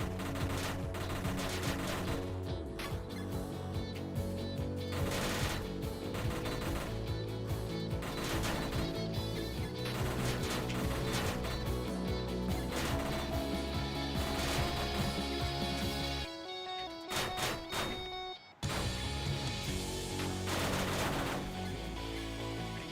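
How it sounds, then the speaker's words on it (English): A fully upgraded level 4 shotgun fires again and again in a PC video game, loud and dense, with blasts and crashes overlapping nearly without pause. "Nope, that's a fully upgraded level 4 shotgun."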